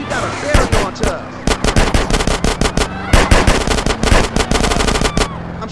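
Rapid automatic gunfire in a GTA San Andreas drive-by from a moving car, dense bursts of loud shots cracking over engine noise with short pauses, and a voice speaking under the barrage.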